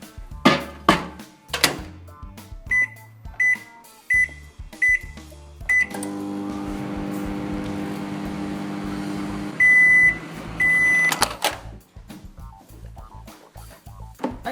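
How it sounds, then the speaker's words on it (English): Microwave oven heating Wilton candy melts in a short burst: keypad beeps and door clunks, then a steady low hum while it runs, a few sharp end beeps, and the door opening afterward. "we're going to put them in the microwave again for just a short burst of 15 seconds at power level 7"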